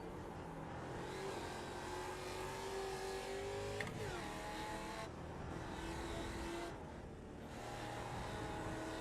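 A Mission R race car engine in a racing simulator game drones steadily and loud, its pitch sweeping up and down through gear changes and revs, with brief tire-squeal tones riding over the engine.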